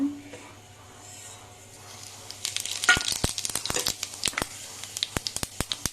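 Spices are tempered in hot oil for sambar, and after a quiet start they break into a burst of sizzling and popping crackles that are sharp and fairly close.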